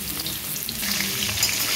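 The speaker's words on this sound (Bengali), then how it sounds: "এই আলুটা ভাজা বসিয়ে দিয়েছি," Potatoes fry in oil in a pan, giving a steady, moderately loud crackling sizzle with light stirring scrapes and no voices.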